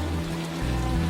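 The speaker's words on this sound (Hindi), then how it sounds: "उस रात फिर तेज बारिश शुरू हुई।" Heavy rain falls at night as a brief, steady hiss, layered under low sustained tonal hums.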